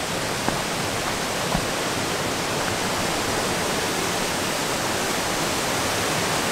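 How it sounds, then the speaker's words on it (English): Waterfall at an abandoned concrete dam pours in a steady, dense roar of rushing water, loud and unbroken from start to finish, with no voices over it. "it's a big dam and it's a waterfall"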